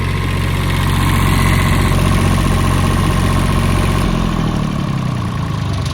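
A 1993 Onan diesel generator in a Bounder motorhome runs at a steady, loud, close idle, a continuous low rumbling drone with mechanical vibration that shifts slightly in tone partway through.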